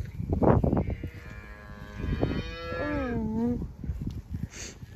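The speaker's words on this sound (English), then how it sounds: "Moo cows. They're moo cows." Cattle on a farm: a cow lets out one long, loud, drawn-out moo that bends downward at its close, with a few nearby rustles and thuds around it.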